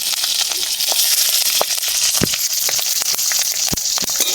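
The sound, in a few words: nigella seeds and green chillies frying in oil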